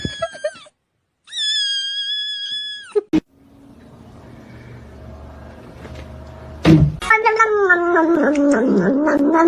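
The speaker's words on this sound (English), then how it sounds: "This is my cat, Mimi." A pet cat named Mimi meows several times close by, drawn-out, wavering cries separated by brief gaps, with a short thump and quiet household rumble between the calls.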